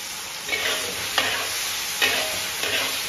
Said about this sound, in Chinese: 翻炒均匀就可以出锅了